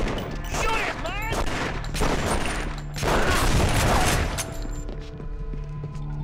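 Bursts of gunfire in The Punisher on PS2 crackle over dense game action and excited shouting, with heavy layered shots and a steady low rumble beneath.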